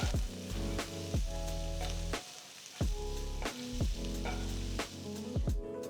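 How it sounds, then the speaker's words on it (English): Ginger, green chilli, onion, and red and green capsicum wedges sizzle as they are stir-fried in a hot pan for Indo-Chinese Schezwan paneer. The frying is steady and close, with regular scraping strokes of the spatula and no talking. "Just going to stir fry these vegetables."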